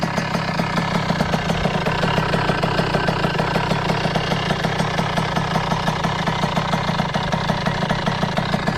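An MRT motorcycle engine idles rich and a bit fast just after its first start-ups, with a steady rapid pulsing thrum, loud and close, running unbroken with no voices.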